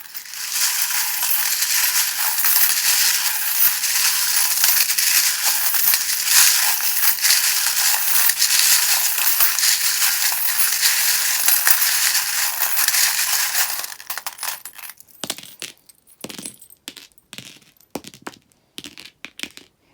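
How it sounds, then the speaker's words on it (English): Tarot cards shuffle in a long, dense riffling rush for several seconds, then break into a series of short separate taps and flicks. "I do recommend turning it down just while I shuffle because they can be a little bit loud"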